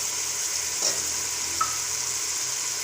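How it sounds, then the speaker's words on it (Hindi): Chopped tomato fries in a pan for chicken macaroni, a steady close sizzle with a faint stir or scrape partway through and no talking. "अब थोड़ा सा टमाटर को फ्राई करेंगे"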